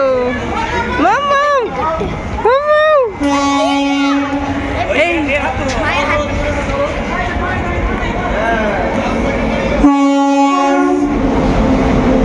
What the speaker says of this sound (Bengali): আমাদের ট্রেনও আর চলে এসছে।